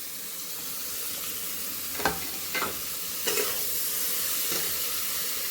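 Mashed paneer stirred into fried onions in a pan, with a steady hiss of frying and several distinct scraping strokes of the spoon, close and without speech.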